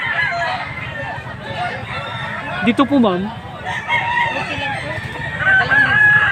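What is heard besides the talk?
roosters crowing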